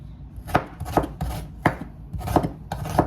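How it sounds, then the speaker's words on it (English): A knife chops a small piece of onion on a cutting board, giving sharp, close, irregular knocks about every half second with no voices. "I'm going to do a little piece of onion"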